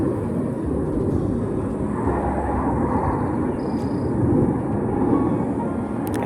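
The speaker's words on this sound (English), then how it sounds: "sorry if you guys hear the aircraft flying" An aircraft flies overhead outdoors, a steady broad low rumble that swells slightly and holds for the whole stretch, with no talk over it.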